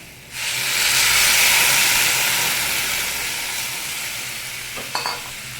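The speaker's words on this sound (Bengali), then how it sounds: "এবারে দিয়ে দেবো জল।" Yardlong beans and potato sizzle hard in a pan as water is poured in, a loud steady hiss and crackle that swells, then slowly eases, with a couple of faint clinks near the end.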